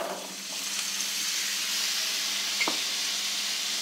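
Carrots tipped into a pan of frying spices for an aloo gajar matar sabzi set off a steady, close sizzle, with a brief sharper hiss and clatter near the end and no voices.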